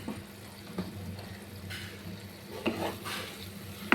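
Masala with chopped tomato sizzles and fries in a pan for egg curry while a spoon stirs it, giving a steady close crackle with a few scraping strokes and no talk.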